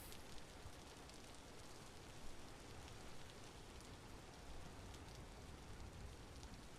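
Rain in the video game Vintage Story falls as a steady, dense hiss of drops, soft and even throughout with no speech.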